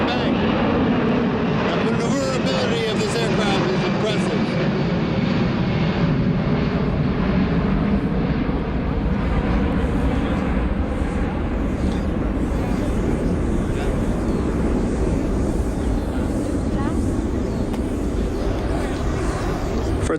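Boeing C-17A Globemaster III of the US Air Force in a flying display at Volkel, gear down and flaps extended, its jet engines producing a loud, steady broadband roar throughout, with a commentator's voice running over it.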